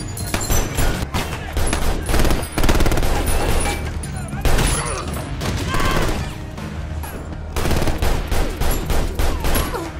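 Dense, continuous gunfire rattles through a film shootout, bursts of rapid shots layered with crashes and heavy low rumble, loud and relentless for the whole stretch with music-like tones underneath.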